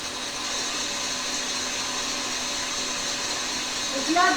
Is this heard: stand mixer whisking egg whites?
yes